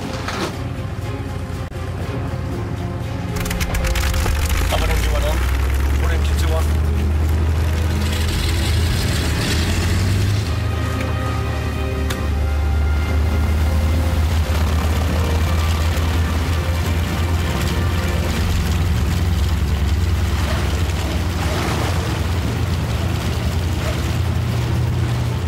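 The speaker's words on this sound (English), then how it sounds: "Start the engine." Several heavy engines on a bomber aircraft crank and catch, building into a loud, steady low-pitched drone that runs on without stopping.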